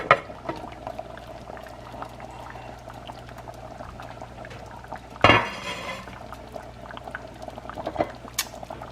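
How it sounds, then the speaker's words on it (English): Homemade chili simmering slowly in a pot, a soft, steady bubbling close by with a brief lid or pot clatter partway through and a faint clink near the end, no talk. "Put the lid on it. Let it do a real slow simmer."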